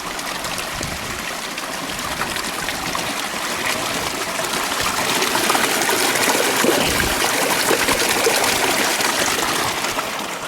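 Water streams steadily into a water bottle on a mountain expedition, a close, continuous gushing trickle that swells slightly in loudness as the bottle fills.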